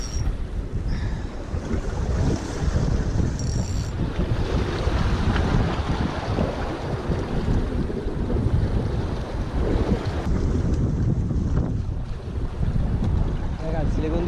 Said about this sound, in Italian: regolarmente arrivano delle raffiche di vento che impediscono proprio di pescare